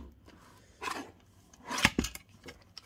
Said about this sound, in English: I'm just going to trim that overhang off